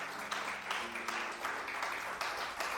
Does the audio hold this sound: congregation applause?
yes